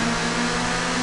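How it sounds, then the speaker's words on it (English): A Renault touring car engine in the racing game TOCA 2 Touring Cars holds a steady, dense high-revving drone, loud and unbroken throughout without any voices. "I can hear that Renault engine. Those French revs."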